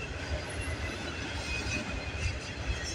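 A CN freight train, E274, rolls past close by with a steady, loud rumble and rattle of wheels on rails, faint squeals overhead, continuous throughout with no talk.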